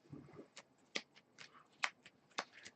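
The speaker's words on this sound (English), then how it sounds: "How many of you like to bridge your decks when you're shuffling for card games?" A deck of Force of Will trading cards is riffled and bridged by hand, giving a quiet sequence of soft flutters and sharp snapping riffles spread over a few seconds, heard close and alone.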